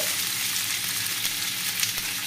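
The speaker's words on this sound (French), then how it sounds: "On va faire revenir le poisson." Fish sears in a hot pan with a steady, dense sizzle that holds at an even loudness throughout, close by and without any talk.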